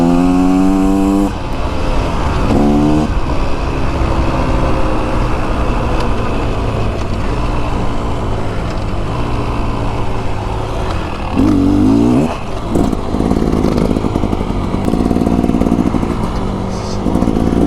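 A 2024 Beta Xtrainer dirt bike engine runs steadily under riding, with a loud continuous motor drone that shifts pitch as the throttle changes, plus rider noise and a brief voice near the start.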